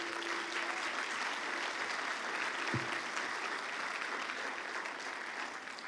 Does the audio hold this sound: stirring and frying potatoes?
no